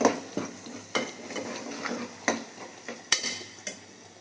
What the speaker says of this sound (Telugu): అల్లం వెల్లుల్లి పేస్ట్ వేసుకొని వేయించుకోవాలి.